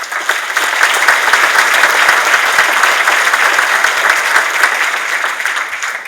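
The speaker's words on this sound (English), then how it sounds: "I believe they deserve a round of applause" Sustained applause from an awards-ceremony audience, steady and dense throughout, with no voices on top of it.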